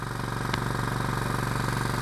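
A small engine drives a water pump, running at a steady idle with an even, rapid pulsing throb. It is close and loud, with one brief click partway through and no talking.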